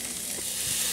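Paddlefish (spoonbill) fillets sizzle on a grill with a steady, dense hiss of frying fat, close and continuous with no talk.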